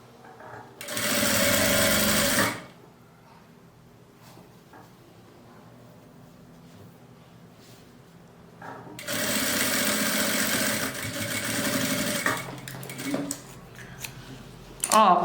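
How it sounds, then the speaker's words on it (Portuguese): A sewing machine stitches a straight seam through fabric for a fabric Bible or book holder, running in two loud sustained bursts of about two and three seconds with quiet handling noise in between. "Quem quiser pode alfinetar e passa uma costura reta."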